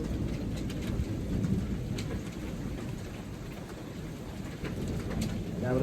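Hail and heavy rain pelting outdoors during a thunderstorm, a loud, dense, continuous clatter and hiss with a low rumble underneath and no voices.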